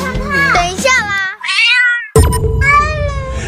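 A kitten in a family home, near a newly bought hamster, lets out a couple of loud, close meows. Voices and household noise also sound around the cries.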